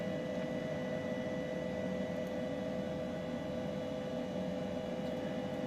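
An H135 helicopter engine idles in Microsoft Flight Simulator, a faint, constant hum with a steady tonal drone and a soft noise bed, unbroken throughout.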